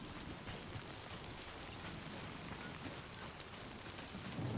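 Steady rain in the video game Death Stranding 2, a dense, even hiss of drops falling without break, fairly loud and continuous throughout.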